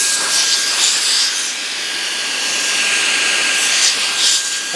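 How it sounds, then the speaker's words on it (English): A VSGO VS-VC01 Pro rechargeable blower runs steadily while inflating a thin camping sleeping mattress, giving a loud, close, continuous high-pitched whirring rush of air with no talking. "what I can do is actually take my blower here"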